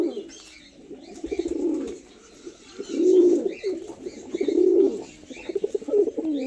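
A pair of Narmada pigeons coo close by in repeated low, rolling bouts, each swelling and fading with short pauses between, plus a few faint chirps.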